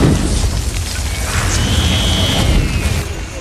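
A film-scene blast as a powerful Infinity Stone unleashes energy, a deep sustained rumbling roar with hissing crackle that swells and lingers, loud and dense throughout.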